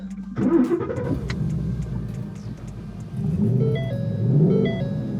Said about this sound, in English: You can hear that V8 roar.